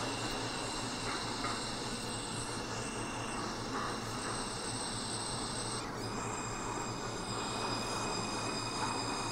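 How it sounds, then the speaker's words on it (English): J local subway train in the Hmmsim 2 train simulator at Kosciuszko Street, a continuous loud rumble of wheels on rail with hissing and high squealing tones, steady and close, no voices. "This is a Manhattan-bound J local train."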